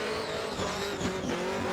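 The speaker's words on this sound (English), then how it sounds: "Awesome skid out there" Race car skidding hard at a motorsport skid event, a dense continuous roar of engine and tire squeal filling the whole stretch, loud and close.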